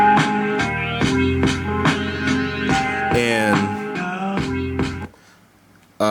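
A 4-bar loop beat made on an MPC Live II with layered drums plays alone: punchy, evenly spaced hits under sustained sampled chords, with a bending pitch swoop near the middle before the loop cuts off abruptly.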